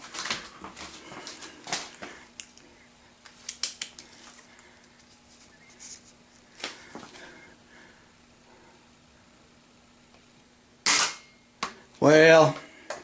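An Air Warriors Panther 2 toy blaster firing long-distance darts, sharp close snaps with clicks and light impacts, ending in two louder bursts.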